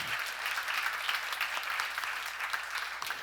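A church congregation applauding during a sermon, a steady even roar of many clapping hands, moderately loud and sustained for a few seconds with no speech over it.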